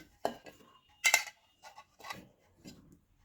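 Metal pots and utensils are handled while setting up ghugni in a pressure cooker, with several separate clanks and scrapes, close and fairly quiet, and a short pause between each one.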